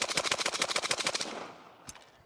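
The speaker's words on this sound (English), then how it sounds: "So now let me run this gun as fast as I can with this stance." An AK47 rifle fired as fast as possible: a rapid burst of about twenty loud, evenly spaced shots outdoors, then a pause and one more sharp report.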